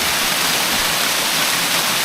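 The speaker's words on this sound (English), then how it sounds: "I'm set quite close to the waterfall" Folly Dolly waterfall roars in a loud, unbroken rush from very close by, with no other sounds over it.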